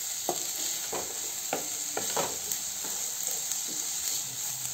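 Red and green capsicum stir-fried in a pan on high gas for an oats breakfast dish, with a constant hissing sizzle and repeated scraping strokes of a spatula at a steady pace.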